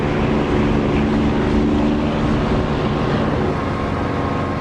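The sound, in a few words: propeller aircraft engine, canopy closed, DCS flight simulator video game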